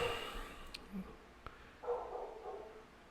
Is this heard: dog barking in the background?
yes